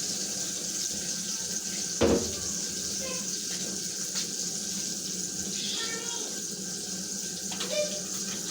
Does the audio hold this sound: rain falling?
no